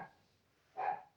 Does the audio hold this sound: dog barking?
yes